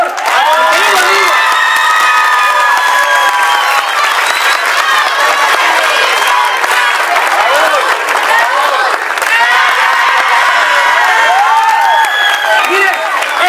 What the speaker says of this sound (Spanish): al que quiero que todos le brindemos un gran aplauso